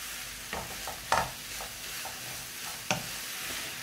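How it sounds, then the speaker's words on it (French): Chopped garlic and mallow (khobiza) stirred in olive oil in a pan: soft scraping spoon strokes at an uneven pace over a faint, steady sizzle. "vous mélangez bien l'ail et votre khobez. Hein. Avec l'huile d'olive"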